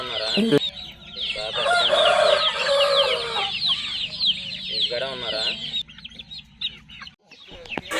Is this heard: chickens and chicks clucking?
yes